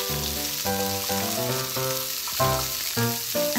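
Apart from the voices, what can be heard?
tomatoes frying and being stirred in a pan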